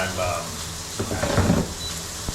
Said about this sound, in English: I am searing right now. And I'm gonna just a few seconds on each side just to give it that crisp.